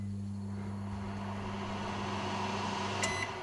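A steady electrical hum drones throughout from an oven being switched off, then a short high beep from the oven sounds near the end.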